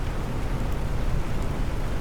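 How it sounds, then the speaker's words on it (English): Steady rain falls across a terraformed desert planet in the game The Planet Crafter, a dense, even hiss of loud continuous downpour with no voices over it. "Oh, we have rain now."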